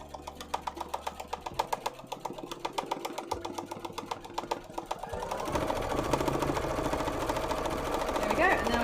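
A sewing machine fills in cosplay fabric with a fast regular stitching clatter close by, then speeds into a denser, continuous whir.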